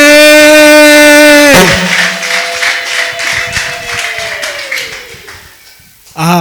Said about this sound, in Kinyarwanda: komera Imana amashyi menshi cyane.